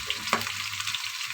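Tomatoes sizzle and fry in a pan with ginger garlic paste for a mixed vegetable curry, giving a steady close crackle with a brief stir near the start.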